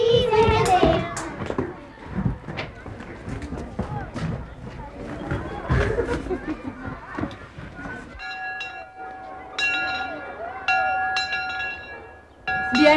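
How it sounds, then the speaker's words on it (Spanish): A school bell rings for several seconds, sounding as a steady electric tone with bright overtones, heard after a stretch of children's chatter and voices in a classroom setting. "ya tocaron la campana"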